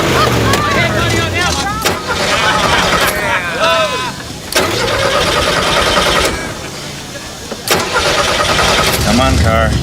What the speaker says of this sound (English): Ladies and gentlemen, attempt to start your engines.